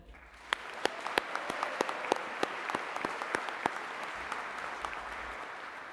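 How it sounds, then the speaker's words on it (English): Graduates and guests at a Greenwich graduation ceremony give a soft, distant round of applause, with a few sharp, close individual claps standing out over the crowd's even patter throughout. "give a big round of applause for them"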